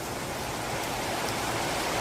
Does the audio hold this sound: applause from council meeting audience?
no